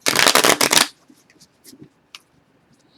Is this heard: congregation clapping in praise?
no